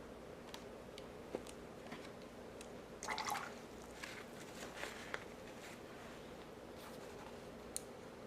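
A paintbrush being rinsed in a cup of water while painting a rock: faint watery swishes and drips with a brief louder splash in the middle, over a steady low background hum.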